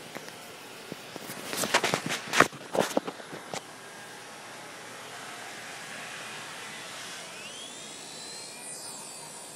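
A Genius CP remote-control helicopter spools up, with a cluster of sharp clicks and knocks first, then a steady, fairly faint rotor and motor whine that rises in pitch toward the end.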